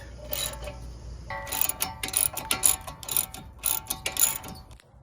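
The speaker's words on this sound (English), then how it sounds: "we're going to undo the bottom one, and that caliper will come right off" A ratchet wrench loosens the lower brake caliper bolt on a Jeep Grand Cherokee during a front brake pad job, clicking in quick repeated bursts of ratcheting strokes, close and fairly loud, after a brief quieter lead-in, with no voices.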